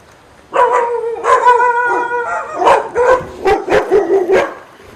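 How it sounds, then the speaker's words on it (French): Several dogs in Tahiti bark loudly and close by, a series of sharp, overlapping barks and yelps in quick succession. "Il y a des chiens aussi. Il y a beaucoup de chiens en Polynésie."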